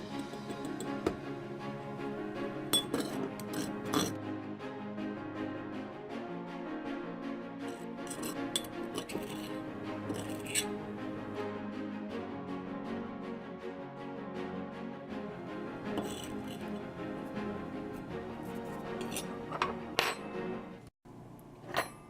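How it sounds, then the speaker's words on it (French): Leaves ground in a mortar with a pestle, a continuous scraping and grinding with frequent small clinks and ticks of stone on stone, steady and close throughout. "Donc on broie au mortier jusqu'à ce que les feuilles soient désintégrées."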